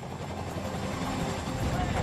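Helicopter straining to climb toward a mountain in an air-disaster reenactment, a steady close rotor and engine drone with a droning hum throughout, and a voice speaking over it.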